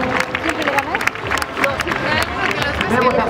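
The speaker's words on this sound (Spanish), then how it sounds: "Venga, fuerte aplauso para estos corredores." Spectators clap hard for runners crossing the San Silvestre finish line in Pontevedra in 2014, a dense, close patter of applause over crowd chatter and voices.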